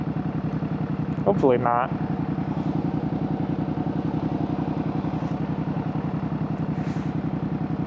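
A Ducati Panigale V2 S idles nearby with a steady, fast, lumpy thrum and light mechanical clatter, while someone speaks briefly over it early on.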